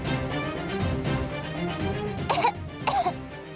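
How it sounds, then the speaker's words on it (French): A dry cough comes in two short, harsh bursts near the end, close and fairly loud, over a bed of soft dramatic background music in an indoor TV drama scene. "sa toux est très sèche"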